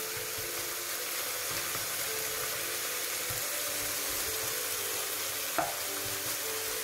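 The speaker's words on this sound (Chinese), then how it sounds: "爆香啲蒜蓉洋葱嘅。" Minced garlic and onion stir-frying in hot oil for a keto lunch of mushroom beef and broccoli, a constant close sizzle with one brief utensil clack near the end.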